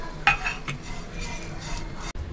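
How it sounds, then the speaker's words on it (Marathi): Dry coconut roasting in a pan for a spicy misal, heard as steady light scraping and clinks of a utensil against the pan with a sharper metallic tap near the start, close and moderately loud with no talking. "हे पहिला मी खोबरा भाजून घेते सुका"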